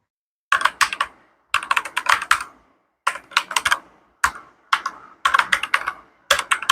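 Mechanical keystrokes from a white Redragon Kumara K552 RGB keyboard with Redragon red switches, heard alone in six quick bursts of rapid clacking separated by short pauses, crisp and close.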